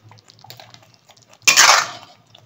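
Chicken with coriander being stirred in a cooking pot, a single sharp scraping clatter of utensil against the pot after faint light clinks, close and with no voices.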